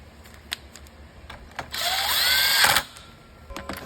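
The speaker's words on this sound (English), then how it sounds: "The generator ground will be installed to this plate as you're screwing it back in." A cordless power driver whirs briefly, running for about a second to screw the generator ground onto a plate on a Stihl TS 500i cut-off concrete saw, with faint handling clicks before and after.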